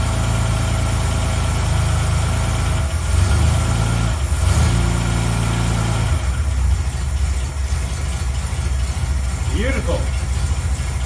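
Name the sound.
car engine idling after restoration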